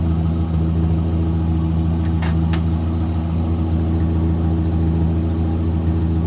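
A 1968 Morris car engine runs with the choke off, making a steady, close mechanical idle with an even low throb and a faint tick, and nobody speaks.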